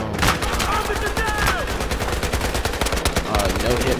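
World War I guns fire in the video game Battlefield 1, with loud, dense, rapid bursts of overlapping shots cracking continuously throughout.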